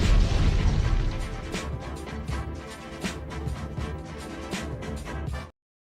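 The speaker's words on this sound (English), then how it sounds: "Explosion." A loud sound-effect explosion opens with a heavy low boom, then rumbling crashes and scattered bursts roll on for about five seconds before cutting off abruptly.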